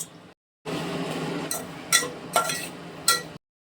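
Mutton vajadi being stirred into hot oil and masala in a pan, with repeated scraping and a few sharp metallic clinks of the spoon against the pan, close and fairly loud.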